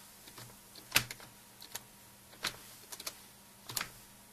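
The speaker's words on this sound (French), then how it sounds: "On revient sur notre commande et on va taper maintenant Fast Boot" Typing a fastboot command on a computer keyboard, sparse crisp key taps in small clusters with gaps between, close and quiet.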